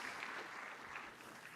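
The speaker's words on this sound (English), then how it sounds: "A round of applause." Dense, steady applause from an audience at an academic-year opening ceremony at Łódź University of Technology, a continuous wash of many hands clapping at moderate distance without pause.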